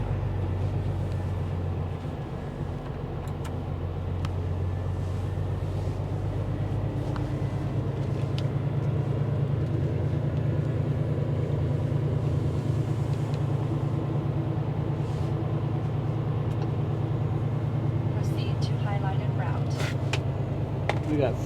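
A heavy truck pulls away in wet, nasty weather, its engine droning low and steady for a long stretch, close by, with a driver's voice talking over the rumble.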